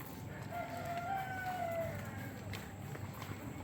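A rooster crows once at moderate distance at a family attraction in Nonthaburi, its rising and falling call lasting about a second over faint background murmur.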